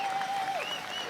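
Spectators in the finish arena of the 2016 World Orienteering Championships long-distance race applaud as a runner enters, a steady wash of clapping with a thin whistle-like tone sliding through it.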